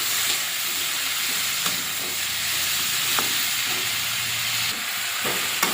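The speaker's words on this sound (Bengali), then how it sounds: "এবারে ভালো করে জাড়া করে নিই মানে সবজিটা ভালো করে কষিয়ে নিই" Yardlong beans and potato sautéing with salt, chilli and turmeric in a pan, a steady close hiss of frying with occasional scrape and clink of a spatula stirring.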